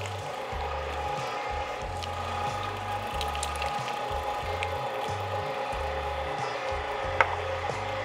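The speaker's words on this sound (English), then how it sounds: "I'm gonna grind this twice, and on occasion, I'm gonna toss a few onions down the throat of my grinder." An electric meat grinder churns sausage meat with onions through a fine die, giving a steady, loud, rhythmic mechanical grinding with repeating gear pulses and a brief sharp click near the end.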